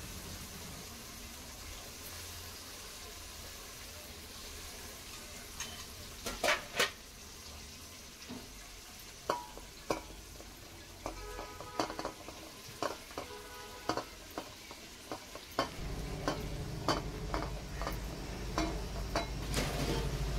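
Ingredients for a Malvani-style prawn biryani sautéed in a pan, with a steady low sizzle broken by scattered clinks and scrapes of stirring; the frying grows louder and fuller toward the end.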